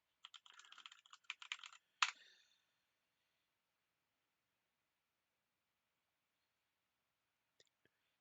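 Someone types on a computer keyboard at close range, a quick run of light key clicks ending in a firm keystroke, then near silence with a couple of faint clicks at the end.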